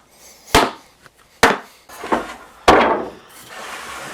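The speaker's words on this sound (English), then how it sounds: "I used a dumbbell to smash them together" Dumbbell smashing wooden ladder pieces together, four sharp heavy knocks spaced roughly a second apart, close and loud, with short ringing decays between strikes.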